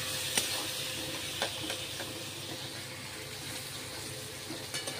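Half a spoon of chilli powder fries in hot oil, a soft, steady sizzle with occasional scraping stirs from a spoon, close by and fairly quiet, no talk.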